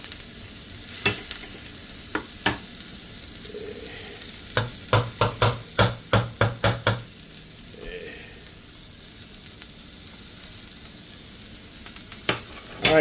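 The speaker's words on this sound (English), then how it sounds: "we're gonna add our garlic right here in the middle" Garlic added to a hot pan for baked spaghetti gives a soft sizzle, with a quick run of sharp clinks and stirring scrapes in the middle and only quiet background noise, no speech.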